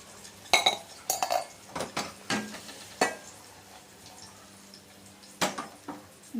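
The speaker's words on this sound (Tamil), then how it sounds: "உருகின வெள்ளத்தை வடிகட்டி வச்சுக்கிடுவோம்." Melted jaggery syrup is strained in a home kitchen for sweet pongal, with sharp clinks and scrapes of metal utensils against a pot coming in irregular bursts over quiet background, no voices.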